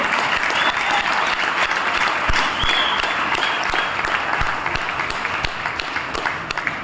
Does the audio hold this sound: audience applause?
yes